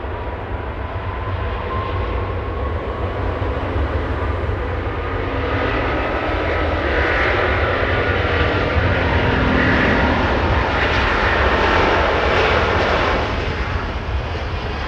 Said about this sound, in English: Airbus 350 departing the parallel